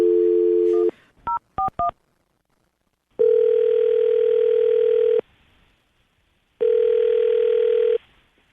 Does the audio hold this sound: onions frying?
no